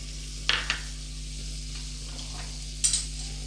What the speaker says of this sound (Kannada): ಈಗ ಇದಕ್ಕೆ ಒಂದು 2-3 ಸ್ಪೂನಷ್ಟು ಬಟರ್ ಹಾಕ್ಕೊಂಬಿಡೋಣ, ಕ್ಯೂಬು ಅಷ್ಟು. ಶಾಲೋ ಫ್ರೈ ಮಾಡಬೇಕು ಫ್ರೆಂಡ್ಸ್ ಇದು.